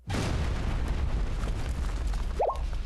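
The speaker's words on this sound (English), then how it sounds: "It sounded like an explosion. Close by too." A nearby explosion in the video game Blue Archive gives a loud, sustained rumbling roar with crackling noise that holds steady for a few seconds, with a brief rising synthetic tone near the end.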